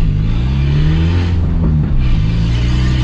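A Peugeot 206 1.4 with a straight-pipe exhaust, heard while driving: a loud, close, steady engine drone whose pitch dips and rises slightly as it runs.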